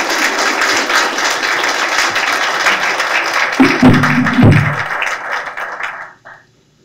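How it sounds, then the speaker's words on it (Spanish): Audience applause filling a lecture hall as an honoured guest speaker is welcomed at a talk on global democratisation and geopolitics, steady sustained clapping for about six seconds before tapering off to silence. "Un aplauso, por favor."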